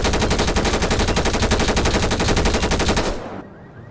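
Rapid automatic gunfire from a weapon in GTA 5, a loud, fast, evenly spaced burst of shots lasting about three seconds before cutting off into near silence.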